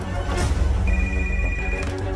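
A telephone rings in a dubbed Hindi action film office scene, a steady electronic ring tone sounding over a busy, noisy background.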